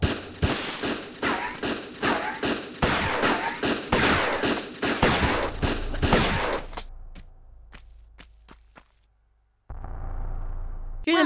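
Rapid bursts of gunfire from Tomb Raider, the first game, crack out loud and close for about seven seconds, then give way to a few sparse isolated shots and a brief hush before a low droning ambience returns.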